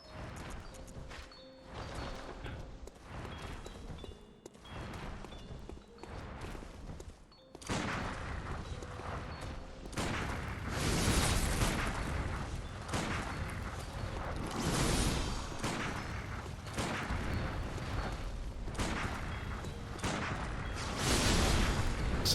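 Repeated pistol shots loaded with Quicksilver bullets, fired at the Wet Nurse boss in Bloodborne, crack steadily and loudly over dense battle noise, growing heavier after the first few seconds.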